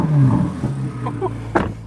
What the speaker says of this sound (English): Giving a rev for Dylan Wise over there.